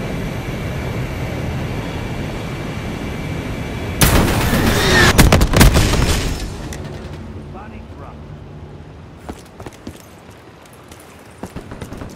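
A Hellstorm missile strike in Black Ops 3 multiplayer crashes down as a sudden loud roar and blast burst after steady in-game background noise, then fades to scattered gunfire and clatter.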